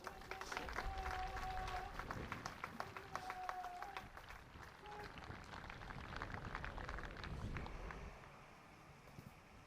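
An outdoor crowd at the Rashtriya Ekta Diwas Parade at Ekta Nagar applauds, a continuous wash of distant clapping blended with wind noise, while a public-address announcer speaks over it.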